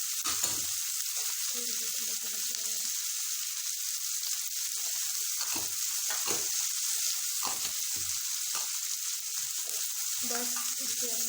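Spiced mango pickle with amchur powder frying in a pan gives a steady bright sizzle throughout, broken by several sharp stirring scrapes and clinks of a spoon against the pan, with no talking.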